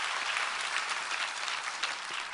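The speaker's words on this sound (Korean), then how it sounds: "성가대 한번 격려의 박수 한번 부탁합니다." Congregation applauding a church choir during a Christmas Day service, a steady, dense wash of clapping filling the hall throughout, with no talk over it.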